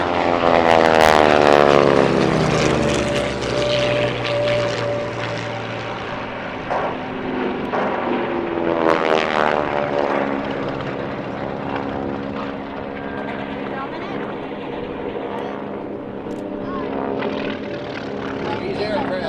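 Replica WWII Japanese warplanes (Zeros, Kates and Vals) fly bombing and strafing passes at the 2017 Breckenridge Airshow. Loud, sustained propeller-engine drone rises and falls in pitch as the planes roar past.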